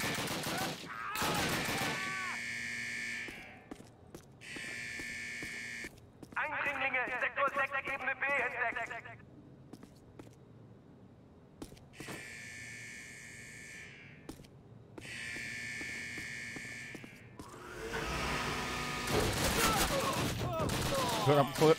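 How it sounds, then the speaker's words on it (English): Bursts of gunfire ring out in Call of Duty Classic on Xbox 360, loud rapid volleys near the start and end with electronic game tones between, while a player talks. "I'm killing him with the 15 bullets I got."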